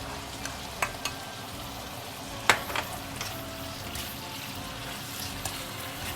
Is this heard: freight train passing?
no